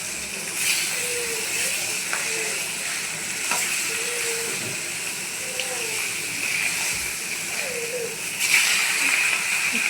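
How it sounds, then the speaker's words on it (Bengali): Fish frying in oil in a wok (kadai) over a home stove, a steady broadband sizzle and hiss running throughout with occasional stirring scrapes, fairly close and moderately loud, with a few faint bird-like chirps in the background. "একে মাছগুলো ভেজে নিচ্ছি কড়াইয়ের মধ্যে দিয়ে।"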